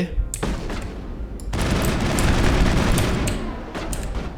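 Gunfire during combat in the video game Mass Effect: a brief burst, then a sustained fusillade of rapid shots and booms for several seconds, loud and dense, with some speech mixed in.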